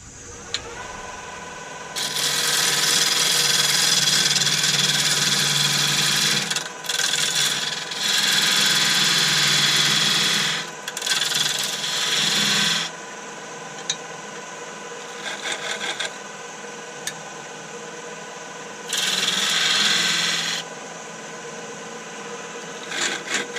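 Wood lathe turning a tenon on a banksia bud vase: the lathe hums steadily while the tool cuts in several loud, sustained scraping bursts separated by quieter spinning gaps.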